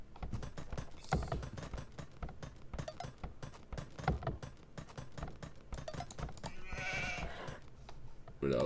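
Sheep bleat in a medieval strategy game campaign, faint calls mixed into busy clicking game sounds and music, with a person talking over them.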